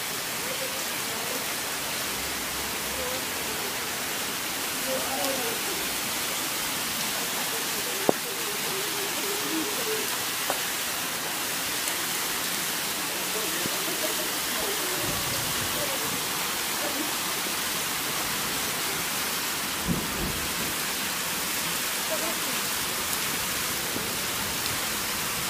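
Torrential rain pours down mountain slopes in Gurzuf, Crimea, making a steady, unbroken roar of rushing water and downpour that stays constant and fairly distant, with a few faint knocks.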